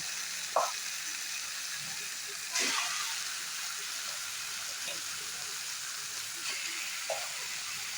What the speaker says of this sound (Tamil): அடுத்தது நம்ம அலசி வச்சுக்கிற கறி எடுத்து சேர்த்துடலாங்க